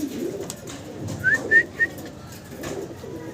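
Male pigeons coo in a seller's loft. Soft, low, rolling coos run throughout, broken by a few brief whistly notes in the middle. The sounds are fairly faint, and there is no talk.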